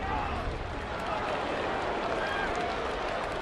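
A large baseball stadium crowd of about 26,000 murmurs as a steady, broad wash of distant voices and rustle, continuous and fairly loud, with no single voice standing out.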